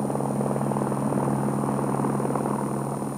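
A helicopter hovers over a high-voltage power line in France's Massif Central while a ground crew pays out conductor cable from a pulling drum; steady, loud rotor and engine drone throughout with no speech.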